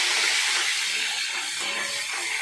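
Chopped tomatoes hitting hot oil seasoned with nigella seeds and dried chillies for a pomfret curry, a steady loud hissing sizzle that carries through without pause, no voices.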